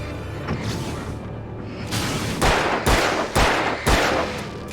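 Gunshots in a shooter video game, a few loud sharp broadband bangs spaced roughly half a second apart over a steady background hum, with no talking.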